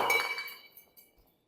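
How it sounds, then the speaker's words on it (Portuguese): A stone strikes a vase with a single sharp glassy clink, and the stone breaks while the vase holds, followed by a few faint small rattles of falling pieces. "quebrou a pedra e não quebrou o vaso"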